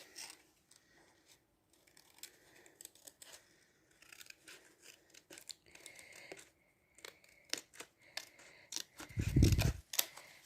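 Scissors snipping out paper lettering for a Gorjuss mug design, a quiet string of short crisp cuts and paper rustles close by, ending in a brief louder handling clunk.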